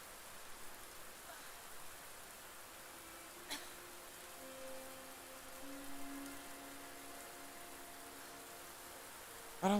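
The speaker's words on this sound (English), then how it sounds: "I don't love rain, man." Steady soft rain hiss falls throughout a scene in the game Bramble: The Mountain King, a quiet continuous wash with a few faint tones and a brief tick partway through, no talking.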